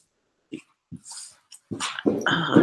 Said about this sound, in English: Here he go harassing my dog.